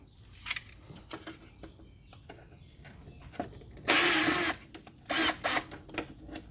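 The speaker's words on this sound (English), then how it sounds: "In case you're wondering, that's a Torx bit." A power driver fitted with a Torx bit backs screws out of a vehicle's lamp housing in several short, loud whirring bursts, with quiet handling clicks and rattles between them.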